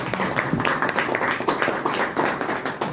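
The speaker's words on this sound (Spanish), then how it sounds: "Un aplauso para mí." An audience at a history talk gives dense, close applause. The claps are sharp and individually audible, with a brisk uneven rhythm, and no voices are heard over them.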